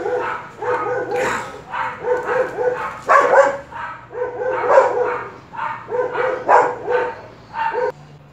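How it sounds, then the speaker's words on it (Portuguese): A dog barks repeatedly in quick, uneven bursts outdoors, sharp loud yaps with a few whimpering notes, continuing steadily for several seconds. "O cachorro tá latindo, não deixa eu gravar."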